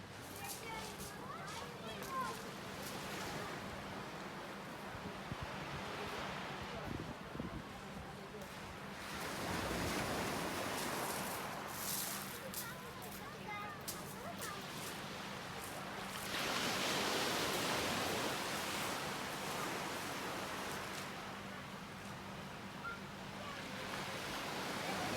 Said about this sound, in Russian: Я снимаю часто на этом месте, и постоянно волны бьют